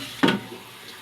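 A short splash of two cups of water poured into a baking tray of fish and potatoes, one brief gush that quickly fades to quiet.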